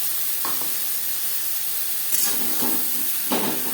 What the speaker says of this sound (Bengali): এক দু মিনিট ফোড়নের সাথে ছোলা নাড়াচাড়া করে নেওয়ার পর দিয়ে দেবো মশলার পেস্ট নারকেল আদা ও কাঁচা লঙ্কার পেস্ট